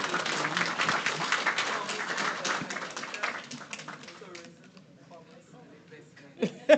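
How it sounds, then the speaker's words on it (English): Audience at a business forum applauds loudly for several seconds, the clapping thinning out toward the end, with a few voices and stray claps afterward. "I want you to give Ms. Regis a round of applause."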